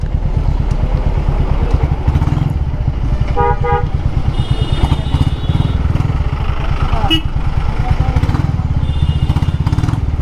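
A Royal Enfield Classic 350 motorcycle rumbles with a steady, close engine throb while riding on a road, with brief horn toots from passing traffic sounding over it.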